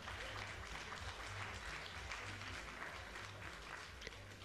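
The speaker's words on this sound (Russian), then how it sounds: "Аплодисментами провожаем участников турнира" An arena crowd at a combat sports tournament applauds the fighters, a continuous, fairly distant wash of clapping with a faint murmur of spectators underneath.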